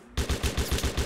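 Automatic gunfire in the video game Mud and Blood, a rapid burst of about eight evenly spaced heavy shots over a second, loud and close with no talk.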